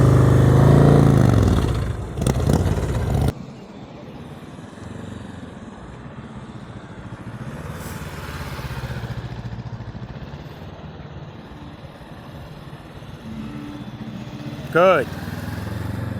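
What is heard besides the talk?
motorcycle riding slow-speed tight turns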